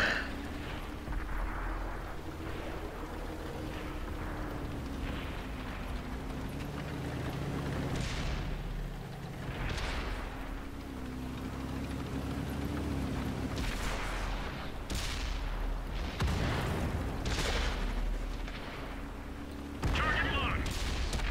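Tank cannon fire in a tank video game, several heavy booms spread across a steady engine rumble and background game sound.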